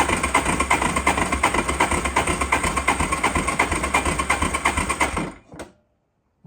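A Yamaha Warrior 350 ATV engine cranks over on the starter during a compression test, a loud rhythmic chugging pulse held for about five seconds before stopping abruptly.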